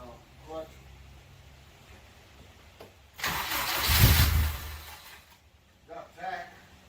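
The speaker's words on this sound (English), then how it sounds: "I think it'll sound just like a Honda once it's actually running right." A Honda K20 engine swapped into a Mazda Miata cranks and catches for a couple of seconds, a loud rough burst that then settles back, with people talking quietly before and after.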